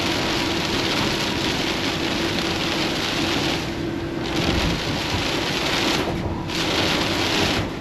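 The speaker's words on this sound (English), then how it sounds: "Heavy rain, then it lightens up, then heavy rain again" Heavy rain pounding a cargo van while driving on a Houston highway: a dense, steady roar of drops hitting the vehicle, loud and continuous, with brief swells and dips in intensity.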